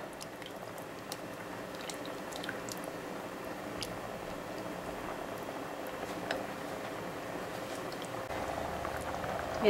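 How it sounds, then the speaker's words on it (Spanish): Red rice with chicken simmering in a covered pot over medium heat, giving a steady soft bubbling and crackle with scattered small pops and ticks, continuous and fairly quiet, no talk. "Lo voy a tapar y vamos a dejar aquí a que se cueza, a que el agua se consuma por completo"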